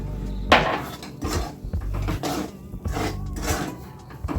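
Flour is stirred into a pot for dudh pitha dough, with a utensil repeatedly knocking and scraping against the metal pot in irregular close, clattering strokes.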